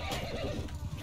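A single horse in the video game Mount and Blade II: Bannerlord whinnies loudly and briefly, a rising and falling neigh heard up close.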